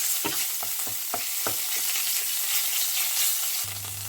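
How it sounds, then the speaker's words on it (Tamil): Butter sizzles steadily in a pan while a utensil scrapes and taps a few times; a low hum joins near the end. "நாங்கள் இந்த பட்டரில் தான் நாங்கள் இது எல்லாத்தையுமே வதக்க போகிறோம்."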